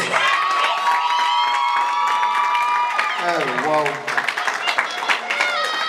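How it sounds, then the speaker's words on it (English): A graduation ceremony crowd applauds and cheers, with shouts and whoops rising over sustained clapping, loud and lively, while voices call out and speech carries through the noise. "Let's give Keisha another round of applause."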